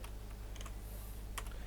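Quick light keystrokes on a computer keyboard while CSS code is written: a few scattered soft clicks, with a brief cluster near the end, over a low steady hum.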